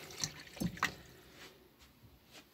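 Water runs and splashes from a tap in a Sprite Major caravan, with a few brief drips and gurgles up front, then a soft steady trickle fading.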